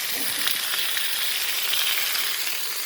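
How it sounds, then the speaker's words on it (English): Potatoes frying in oil on a hot Blackstone griddle, a loud, continuous close-up sizzle with a bright crackling hiss and no pauses. "A bit of oil. And I'm just gonna dump my taters right on there."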